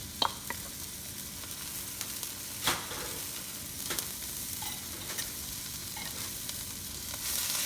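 Garlic and tomatoes fry in a pan for fried rice, a constant close sizzle broken by several sharp scrapes and taps of stirring, with no talking.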